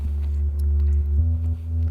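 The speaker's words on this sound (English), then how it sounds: "bit of a colored kind of sine sub kind of bass sound" Plain sine sub bass from the Hydra plugin with no effects chain: a deep, sustained low hum shifting between a couple of held notes, loud and steady, with no talk over it.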